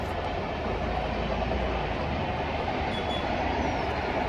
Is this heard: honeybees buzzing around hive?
no